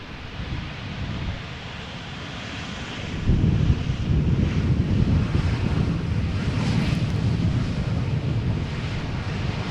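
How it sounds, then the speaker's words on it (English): Wind gusting across the open ground at Amsterdam Schiphol Airport, buffeting the microphone in a steady rushing roar that swells louder partway through, with a faint distant rumble under it and no talking. "I do have the impression that the wind is picking up a little bit."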